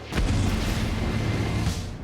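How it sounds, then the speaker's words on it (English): Black powder wrapped tightly in tape detonating: a sudden loud bang that rolls into a dense, sustained rumbling blast lasting about two seconds, with no voices over it. "you wrap it in some tape nice and tight, that whoosh turns into a bang"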